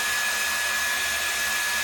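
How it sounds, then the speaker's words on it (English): A hair dryer blows continuously above a dog during a bath-time grooming session, a steady loud whooshing roar with a thin whine running through it, close by and without talk. "I start running my hand over his back while the dryer is blowing above him"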